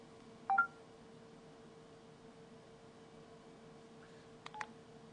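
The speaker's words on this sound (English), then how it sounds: "We can pull up the dial pad, hit the green button to dial." Touch-tone DTMF dialing on an AT&T Quickfire phone: two short keypad tone bursts, one early and one near the end, separated by a long pause over a faint steady electrical hum.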